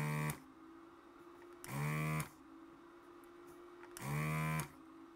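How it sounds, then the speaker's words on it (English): A desoldering tool works on the holes of a Sinclair ZX Spectrum 48k circuit board, giving three short, loud buzzing mechanical bursts at regular intervals over a faint steady hum, with no talk. "Now I can tidy up the holes with the desoldering tool."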